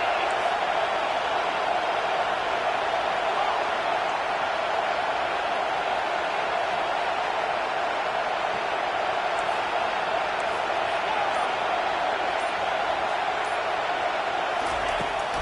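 Stadium crowd at an Auburn football game on fourth down, a dense, steady roar of thousands of voices holding at constant volume throughout, distant and unbroken.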